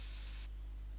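A short burst of mosquito repellent from an aerosol can in the game My Summer Car hisses sharply for half a second, then cuts off abruptly into quiet background hum.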